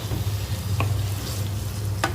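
Chicken fried rice ingredients stirred in a pan over medium flame, with a steady low sizzle of frying throughout and two sharp spatula scrapes or clinks against the pan, alone with no talk.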